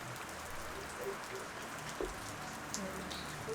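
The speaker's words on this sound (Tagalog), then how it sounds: "Sarap ng ambience dito habang malakas yung ulan sa labas." Heavy rain pours steadily outside, heard from indoors in Baguio as a soft, continuous hiss with occasional faint drips and distant background murmur.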